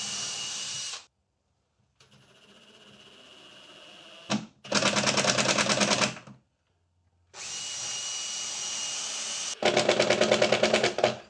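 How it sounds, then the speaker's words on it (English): Power drill driving screws into a wooden router lift block: a long whirring run, a short loud burst, then another steady run and a final strong burst, with brief silent pauses between, close and loud. "I can clamp that there while I get screws driven in from the other side"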